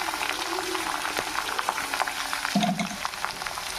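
Okra and onion pieces fry in a pan with curry leaves, making a soft, steady sizzle with light crackles and a brief clatter of stirring near the end.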